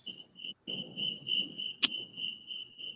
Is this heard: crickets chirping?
yes